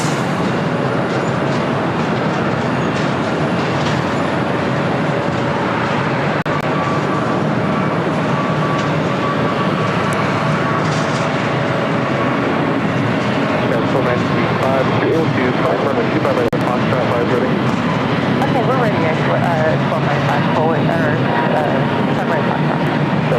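An American Airlines Boeing 777-200ER jet taxis on taxiway Bravo at LAX, its engines giving a loud, steady, close roar that runs unbroken the whole time, with muffled voices faintly underneath.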